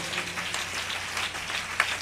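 A congregation at a sermon applauds, giving a soft, steady patter of many hands clapping at a moderate distance, with one brief sharper clap near the end.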